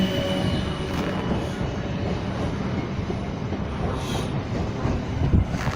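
A train passing at Clapham Junction, heard as a steady, fairly loud rumble of wheels on track that stays even throughout, with no voices.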